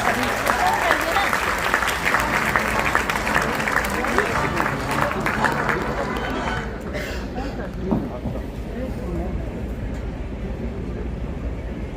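A large crowd at a dental college white coat ceremony applauds loudly and steadily, then the clapping thins slightly while continuing with scattered cheers underneath.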